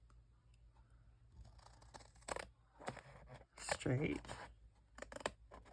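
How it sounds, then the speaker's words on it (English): Scissors snip through a sheet of paper to cut it in half, giving a few sharp crisp cuts close by amid quiet rustling, with a brief spoken word. "I'm just going to hopefully cut this in half"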